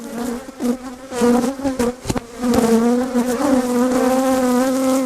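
Bees buzz loudly and continuously around an opened, queenless beehive with a laying worker, a dense droning hum swelling and wavering as insects fly close by.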